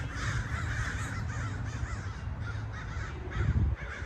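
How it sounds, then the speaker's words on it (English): A group of crows caws repeatedly outdoors at moderate distance, harsh calls overlapping in an irregular chorus over steady background noise. "there's a murder over here. It's what they call a group of ravens, crows"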